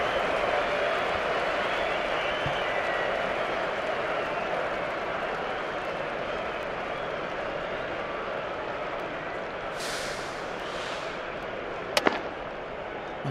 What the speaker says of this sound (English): Drop catch a tough one, and now a missed field, and the crowd are letting you know about that.